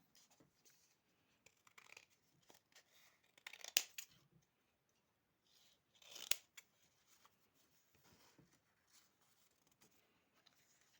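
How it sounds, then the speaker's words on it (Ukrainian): Quiet snipping of scissors through paper, a few distinct cuts spaced out among soft rustling and handling noises. "По всіх лініях згину розрізаємо ножицями."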